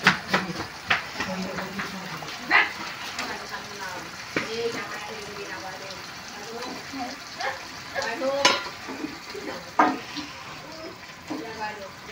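Fish pieces for doi katla go into hot oil in a pan with a sizzle, joined by scattered clinks and stirring scrapes nearby while someone speaks.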